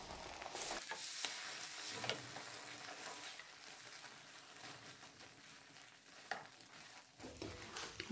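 Eggs sizzling in a frying pan, a steady close crackle with occasional pops and stirring scrapes throughout, no one talking.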